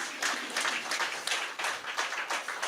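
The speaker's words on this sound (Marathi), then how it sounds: "त्यामुळे सुरेश हावरे सरांसाठी एकदा जोरदार टाळ्या." An audience claps for Suresh Haware at a Marathi literary award ceremony. The applause is steady and fairly soft, with individual claps rippling through the crowd for a few seconds and no talking.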